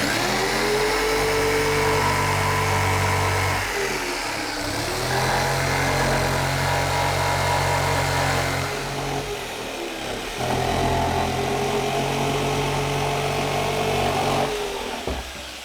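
A power saw cuts a hole through a gauge 0 model railway baseboard for a turntable, a steady loud motor drone with a harsh buzzing, pausing briefly a few times before carrying on.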